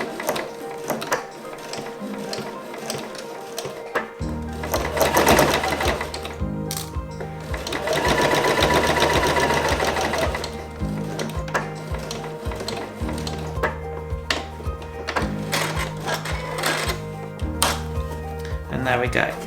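Sewing machine stitching a 1 cm seam on a baker boy cap, bursts of rapid mechanical chatter and short reverse stitches, with a voice talking over parts of it.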